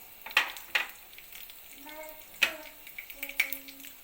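Cumin, mustard seeds, garlic cloves and dried red chillies frying in oil for a bitter gourd spice powder, a soft sizzle punctuated by a few sharp clinks and stirring scrapes, fairly quiet and close, with no talking.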